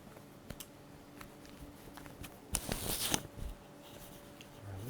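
A deck of oracle cards being shuffled up close, a few light taps and riffles leading into a brisk burst of papery flutter, then quieter handling, with no talking.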